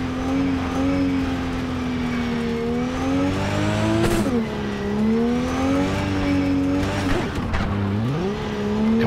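Car engine in the video game Cyberpunk 2077 droning steadily with pitch rising and falling as it revs, with brief tire-skid bursts near the middle and end, loud and continuous with no talking.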